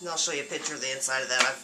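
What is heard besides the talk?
No everyday noise stands out behind the speech.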